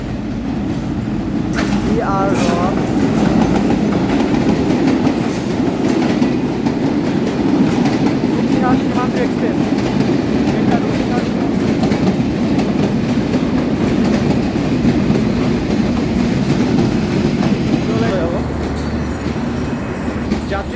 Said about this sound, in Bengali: দুরন্ত গতিতে চলে আসছে ফাইনালি প্রবেশ করতেছে আমাদের চুয়াডাঙ্গা রেল স্টেশনে